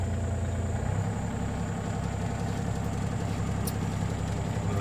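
Diesel engine of a Yanmar B27 mini excavator idling at low throttle, a steady, even rumble at close range that runs unbroken throughout, with no speech.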